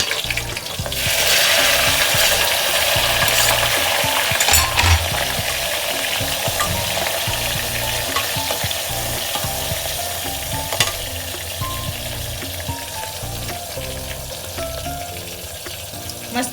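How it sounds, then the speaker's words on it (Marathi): Mustard seeds, onion and chopped tomato frying in a pan, a continuous close sizzle with occasional stirring scrapes and small pops throughout. "आता मी ह्याच्यामध्ये टाकत आहे मोहरी, कांदा आणि मी टोमॅटो चिरून ठेवला होता"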